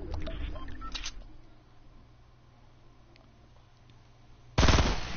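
Video game gunfire: a few quick bursts at the start, then quiet background, then a loud sharp blast of shots near the end.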